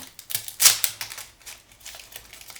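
Plastic wrapper torn open on a 1996 Skybox Skymotion trading card box, a close, bright crinkling and crackling burst that peaks early, then lighter rustles trailing off, with no talking.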